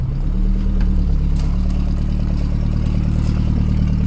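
A Nissan Sunny truck idles just after a cold start, the engine running loud and close with a steady low rumble and faint clatter.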